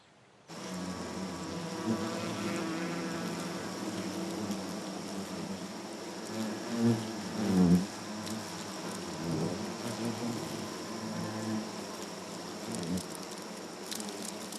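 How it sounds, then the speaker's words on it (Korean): A dense, steady buzzing of about 500 giant hornets packed in a nest fills the air at close range, with a few louder swells partway through. "(500마리) 장수 말벌들로 꽉 찬 벌집."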